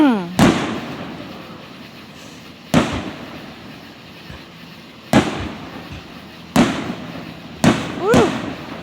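An Independence Day fireworks display in Vian, Oklahoma, with five loud booming bursts at irregular intervals, each followed by crackling and a whistling trail, and people chatting and exclaiming nearby between blasts.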